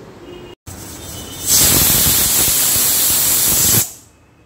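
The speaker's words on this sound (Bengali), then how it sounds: "একটা সিটি হলো।" A pressure cooker with mutton curry lets off steam as a loud, steady hiss that starts suddenly, holds for about two seconds and then cuts off, following a quieter stretch of low kitchen noise.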